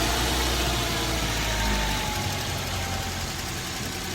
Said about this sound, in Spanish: lo siguiente que hacemos es probar si el vehículo arranca. Ya, ahí sí arranca